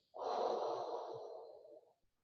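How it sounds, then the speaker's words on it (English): A single deep, close breath is drawn and exhaled during a core workout. It is soft, airy and lasts about two seconds before fading out. "Deep breath in. Exhale."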